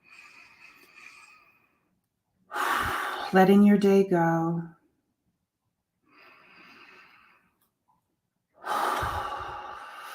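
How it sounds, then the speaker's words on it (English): Slow, deep breaths drawn in and let out during a guided relaxation, heard as close, airy rushes separated by pauses, with a calm voice speaking briefly between them. "just breathe in, breathe out"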